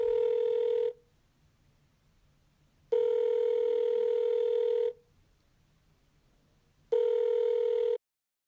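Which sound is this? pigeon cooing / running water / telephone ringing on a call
telephone ringing on a call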